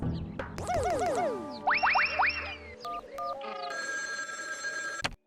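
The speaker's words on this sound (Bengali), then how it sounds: "চল একটু আড়ালে গিয়ে চিমটির মামিকে ফোন করে জানাই" A telephone rings with repeated warbling electronic chirps in bursts, then shifts to a steadier buzzing ring tone before cutting off abruptly, in an animated cartoon.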